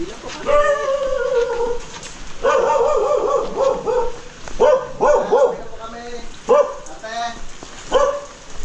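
A puppy at a camping site gives a run of high yips and barks in bursts with short whimpers between, loud and close, while people chatter nearby.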